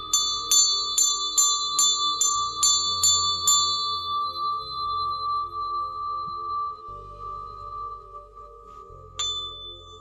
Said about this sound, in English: My mom gave me that bell, and I found that one in the Goodwill.